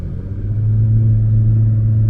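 A 2013 Audi S4 in dynamic mode gives a deep, steady engine rumble that swells slightly in the first half-second, then holds a close, loud idle-like drone.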